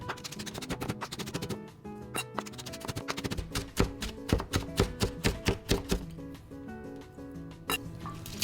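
Green onion gets finely chopped with a kitchen knife on a cutting board for gyoza, a quick, steady run of crisp close-up chops that speeds into a tight rhythm, with faint tonal background sound underneath.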